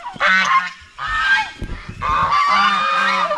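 Ducks on a Filipino farm call out in loud, repeated honking quacks, three bursts with short gaps between them, close by and heard alone without talk.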